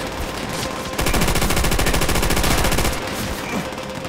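Enemy machine gun in Call of Duty: World at War opens up in a rapid, loud, evenly spaced burst of shots lasting about two seconds, framed by battlefield noise before and after.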